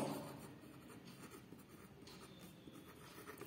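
Pen or pencil writing a short line of maths on paper, a faint close scratching that continues steadily for a few seconds with no talk.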